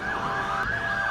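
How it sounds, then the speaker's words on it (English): Emergency vehicle siren in the Roblox game American Plains, a continuous wailing tone sweeping up and down, steady and prominent with no talking. "Let's turn on our lights and our sirens because it is an emergency."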